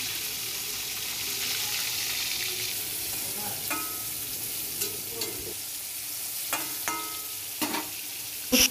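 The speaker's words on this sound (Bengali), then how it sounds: "উচ্ছেগুলো ভেজে নেব" Bitter gourd pieces fry in hot oil in a pan in a village kitchen, a steady broad sizzle running throughout with a few sharp utensil clinks and scrapes near the end, no voices.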